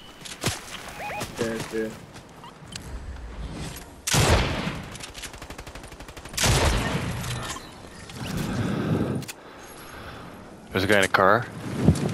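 Bursts of gunfire in the video game Fortnite: rapid fusillades and booming shots in clusters, loud and close, mixed with game effects and a passing vehicle, with gamers talking over the action.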